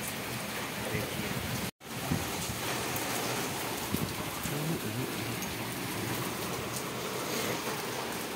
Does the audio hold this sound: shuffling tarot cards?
no